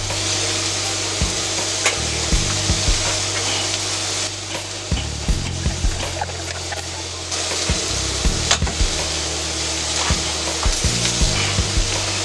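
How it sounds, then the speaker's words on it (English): Onions and baked beans sizzle steadily in a hot pan while a utensil stirs them, scraping and tapping in irregular bursts over the constant frying hiss. "we're going to stir up the onions and the baked beans a little bit"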